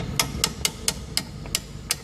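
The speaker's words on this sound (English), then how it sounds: "So you can get your hammer and just tap it a little bit." A hammer taps a metal pin in a Foxbody Mustang wheel hub eight times at a steady, unhurried pace, each strike a sharp, bright click heard up close with no talking.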